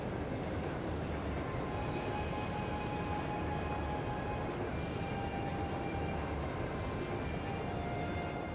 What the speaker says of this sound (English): Crusader, military train.